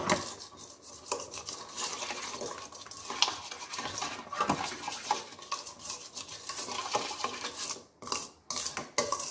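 Chicken marinating for Jamaican curry chicken being mixed in a bowl, close, uneven scraping and squelching strokes of a utensil against the bowl, continuous with no talking.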